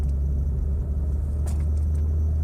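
A Mazda 626 with cruise control speeds up, its engine and road rumble holding a steady, loud, continuous drone throughout with no talk.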